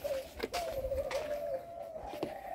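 A young turtle dove coos in one long, steady, drawn-out note that sits fairly quietly over a constant background hiss.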